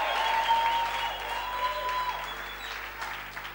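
A church congregation claps through a service as a sustained, moderately loud wash of applause, with an organ or keyboard tone holding underneath.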